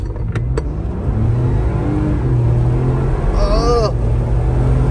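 A 2022 Ford Bronco two-door Sasquatch with the 2.7 engine accelerating hard from 0 to 60, a loud, steady engine rumble rising in pitch through the gears, heard from inside the cabin.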